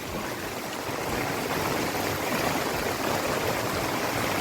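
Heavy rain pours down with water rushing along a street where two lanes meet, a steady, loud, unbroken wash of splashing and flowing water with no voices.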